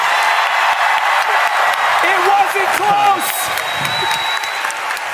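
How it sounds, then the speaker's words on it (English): Live studio audience applauding during a game-show segment, broad steady clapping and cheering throughout, with people talking over it. "Round of applause for the worst performing guest tonight."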